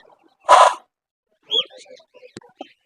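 Birds call in a bird shop holding lovebirds and cockatiels: one loud harsh squawk, then a few shorter chirps and clucks, fairly close.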